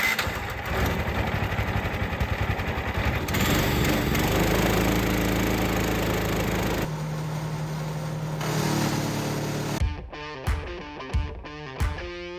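A lawn mower engine runs loud and steady up close for about ten seconds before the throttle drops and it sputters through a few uneven, choppy pulses as it winds down.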